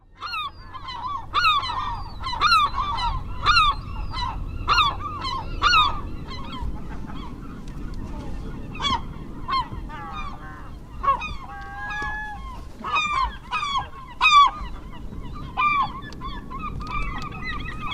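Great black-backed gulls calling at a seabird colony: deep, honking cries repeat in quick overlapping bursts, some near and loud, others fainter, over a soft background rumble.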